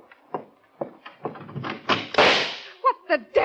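A door being opened in a 1950 radio mystery drama: a run of soft knocks and thumps, then a broad noisy burst, and short creaking squeaks near the end, close and fairly loud.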